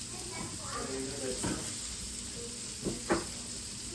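Sausage sizzling in a frying pan on a cold winter morning, a steady hiss with a few sharper pops and crackles, close by and fairly quiet.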